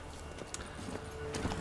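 Hooves of a horse in The Witcher 3 clip-clop at a walk, soft and uneven, with faint game ambience.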